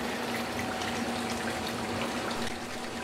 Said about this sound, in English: add the new water while you're taking out the old water